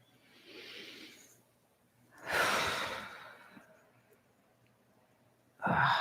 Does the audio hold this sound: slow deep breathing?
yes